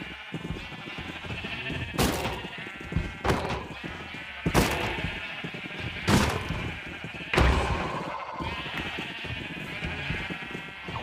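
Sheep in the video game Minecraft bleat repeatedly, several distinct calls spaced a second or two apart over a steady background, with occasional dull thumps and no talk.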